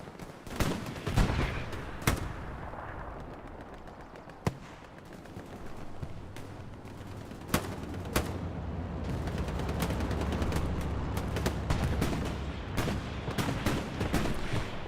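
Battlefield machine gun fire in the World War II shooter Hell Let Loose on Utah Beach, with sharp scattered shots and bursts cracking out over a low rumbling background, some close and loud, others distant.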